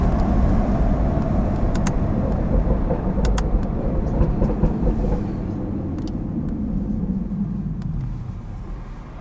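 A BMW 440i stage 2 tuned engine rumbles steadily with brief crackling exhaust burbles set to medium, loud and close, easing off slightly toward the end.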